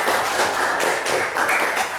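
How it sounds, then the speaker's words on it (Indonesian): A classroom group claps for a presenter, a dense, steady patter of many hands running for about two seconds with no voices over it. "Tepuk tangan dulu buat Mas Sawal."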